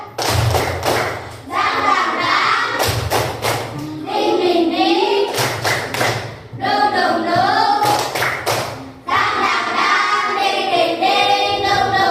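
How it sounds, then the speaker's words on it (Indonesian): A group performs the Indonesian 'tepuk semangat' spirit clap, sharp rhythmic bursts of loud, close clapping alternating with voices chanting between the clap sequences. "Tepuk semangat."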